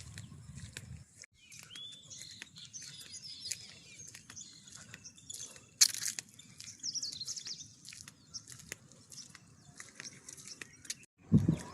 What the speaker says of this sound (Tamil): குருவிகளோட சத்தத்தை மட்டும் கேட்டு பாருங்க மக்கள் எப்படி இருக்குதுன்னு.